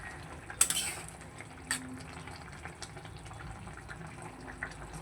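A pot of curry with potatoes and lentil dumplings bubbles softly in thin hot-water broth, a faint continuous simmer with a few small clinks near the start.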